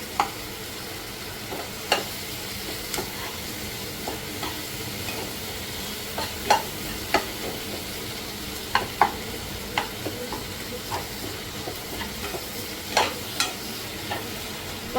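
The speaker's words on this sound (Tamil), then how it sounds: "நல்லா தக்காளியை நசுக்கி விட்டு வதக்கிக்கோங்க, அப்போதான் நல்லாயிருக்கும்." Crushed tomatoes sauté in a pan for a Sankara fish curry, with a steady soft sizzle and regular sharp scrapes and taps of a spoon stirring against the pan.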